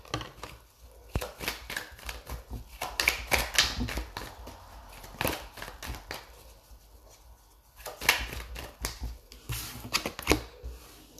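Tarot cards shuffled and drawn during a reading, soft irregular riffling and flicking in clustered bursts with short gaps, close and quiet, no voices.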